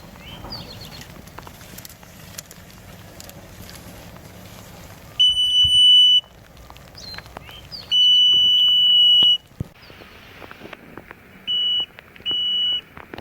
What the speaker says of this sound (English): When this probe reaches the water, it'll send a signal up the tape and it will beep.